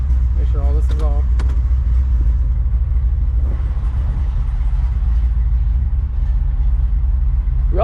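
Car in a shop setting pulling off for a drive, a loud, steady low engine rumble dominating throughout, with someone talking briefly near the start.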